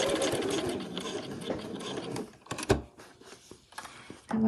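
A sewing machine stitches through all layers of a fabric travel wallet with passport pockets, raw edges matched, running in a steady whirring burst before slowing, stopping with a few clicks, then briefly restarting.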